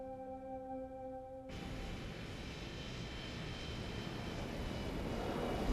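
An airplane lands in Vienna. A low tonal engine hum gives way to a broad, steady engine roar that grows slowly louder.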